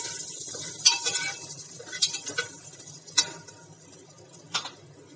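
Bay leaf, black pepper, cinnamon and cloves roast in oil and butter for a vegetable soup. A faint, quiet sizzle sits under a few sharp, scattered taps and clinks from a spoon against the pan.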